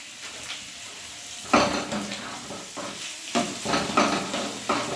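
Salt is stirred into a potato curry in a pan: repeated metal scrapes and clanks of a spoon against the pan, close and fairly loud, over a soft continuous sizzle, with no voices.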